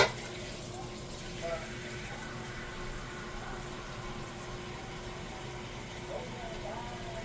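Tap water runs in a thin, steady stream into a soup pot, a constant hiss heard close by under a low background hum.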